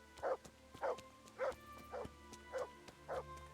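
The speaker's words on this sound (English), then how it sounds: "Dog, keep barking." Dog barking in a video game, six evenly spaced bow-wow barks about half a second apart, moderately loud over a steady low game hum with no talk.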